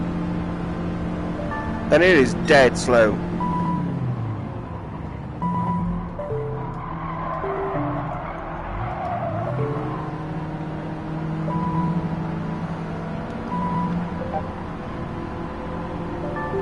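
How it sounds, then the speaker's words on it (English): A car engine drones in Gran Turismo 7, with a burst of tire squeal early on, under a person talking. "I swear I hear my own engine."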